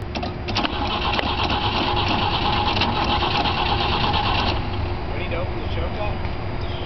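A Volvo 164's engine runs steadily with a constant buzzing, rattling drone while the gas is pumped, then the tone drops slightly and settles near the end.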